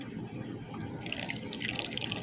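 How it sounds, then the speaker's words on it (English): Water splashes and trickles into a container of flour, starting faint and growing louder and more bubbly over a couple of seconds. "Pour a little bit more water in."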